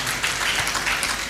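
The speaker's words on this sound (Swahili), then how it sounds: "Makofi kwa waziri jameni." A crowd applauds at the launch of a youth foundation at a youth centre in Machakos, welcoming a government minister; a dense, steady wash of clapping that holds for about a second and a half without voices.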